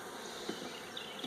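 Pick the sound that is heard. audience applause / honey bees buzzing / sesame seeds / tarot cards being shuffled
honey bees buzzing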